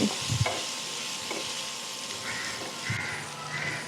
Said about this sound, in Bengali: একসঙ্গে সব কিছু ভালো করে নেড়েচেড়ে মিশিয়ে কষাচ্ছি